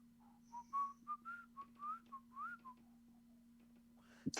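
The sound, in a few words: person imitating whistling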